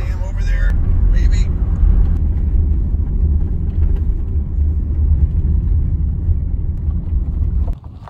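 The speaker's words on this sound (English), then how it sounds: "we are driving over the Glen Canyon Dam, or at least the bridge next to Glen Canyon Dam" A minivan driving over the bridge beside Glen Canyon Dam, a loud steady low road rumble with wind buffeting throughout, fading out at the end, with a voice talking over the top.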